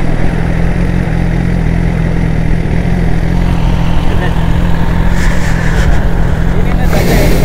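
Superbikes such as a Yamaha R1, Kawasaki Ninja 1000 and BMW S1000RR idle together at a meet-up, a loud steady low rumble with people talking over it and a brief rise near the end.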